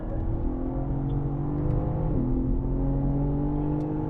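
A BMW M car held at full throttle on the Sonoma Raceway track, its engine note a steady, loud, sustained drone that rises slightly in pitch, with no voices over it.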